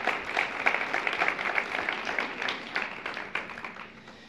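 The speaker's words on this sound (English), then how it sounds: "go for another round of applause" An audience at an energy-tech startup showcase claps for partners and hosts, a thick burst of applause that gradually thins and fades over a few seconds.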